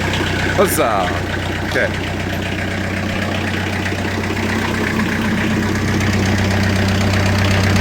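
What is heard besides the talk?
Timberking sawmill diesel engine cranking and running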